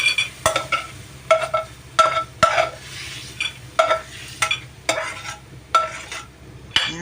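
Liver sautéing in a pan for menudo, with repeated stirring scrapes and clinks over a steady sizzle, arriving in regular bursts about every half second to second, close and moderately loud.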